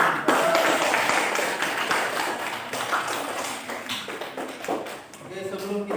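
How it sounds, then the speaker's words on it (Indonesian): Classroom students clapping together, a dense patter of applause that runs throughout and fades near the end, with a teacher's voice talking over it. "Tepuk tangan untuk kalian semua sekalian."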